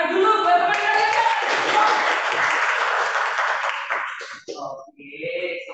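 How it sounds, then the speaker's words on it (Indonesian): Students in a classroom applaud a classmate with a dense burst of clapping that lasts several seconds and then fades into scattered claps and a few voices. "Beri tepuk tangan dulu buat teman kalian."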